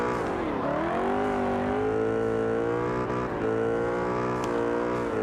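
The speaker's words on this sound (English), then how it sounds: "Well, you hear him winding up the horsepower." A Mustang race car engine revving hard in qualifying, a loud, close, continuous roar that dips and then climbs in pitch as it winds up.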